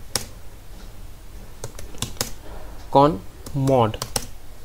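Someone types a Linux nmcli command on a computer keyboard, producing scattered close key clicks in short bursts. Someone speaks briefly partway through.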